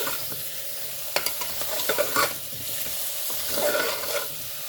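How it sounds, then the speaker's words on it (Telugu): Bottle gourd sizzles steadily as it fries in a pan, with repeated scrapes and clacks of a spoon stirring it, all close and continuous with no talking. "ఇప్పుడు ఇది బాగా ఫ్రై అవ్వాలి"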